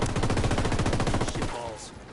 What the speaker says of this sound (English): Got some rebels taking shots.